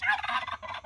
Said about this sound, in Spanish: Para que se den cuenta, son los pavos, ¿va? Pero pavos de los salvajes.